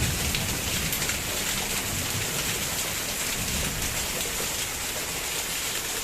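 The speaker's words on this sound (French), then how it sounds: "Je peux pas sortir, ça tombe trop." Heavy rain pours in a steady, dense hiss during a thunderstorm, loud and close on a surface outdoors by a freshly planted vegetable garden, with no voices and no distinct thunder.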